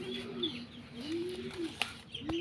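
Soft, repeated clucking and cooing from nearby native chickens, with a couple of sharp pecking taps as they feed on maize meal.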